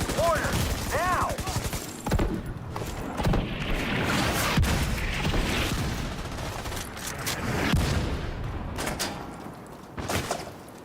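Mortar strike explosions mixed with gunfire in a video game, a dense, continuous barrage of booms and rapid shots rolling on for several seconds, loud and close, with brief voice fragments early on.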